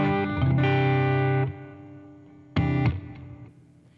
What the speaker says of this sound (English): There's a little bit of delay there as I slap the strings.